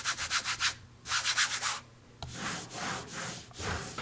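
A computer mouse scrubs back and forth across a rough-textured Fnatic Dash mouse pad, making close, dry rasping strokes in quick rhythmic bursts with brief pauses between sets.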